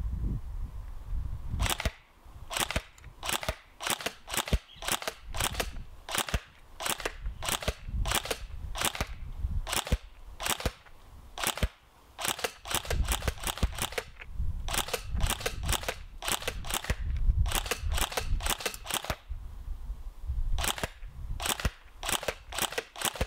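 An airsoft AEG fires Draft Club BBs in a 50-shot test, sharp snapping shots coming in quick single pops and short clusters, close and loud, with brief gaps between.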